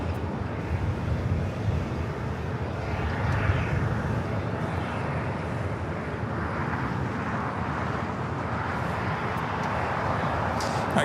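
A 13-year-old American Airlines Airbus jet bound for Dallas Fort Worth takes off at LAX, a steady broadband engine roar that swells slightly and holds loud throughout, with some wind buffeting on the microphone.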